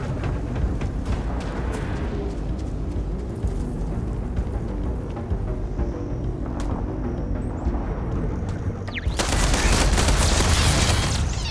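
Gunfire in the Starfield video game aimed at a turret: dense, continuous loud shooting throughout, swelling into a heavier, brighter burst near the end, with no talking.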